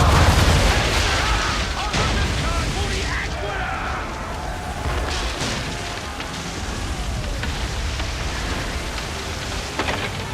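Ship cannons fire from a sailing vessel at sea in Assassin's Creed 3, with several loud booms, the heaviest near the start and around the two-second mark, over a constant roar of wind and water, and a voice shouts briefly.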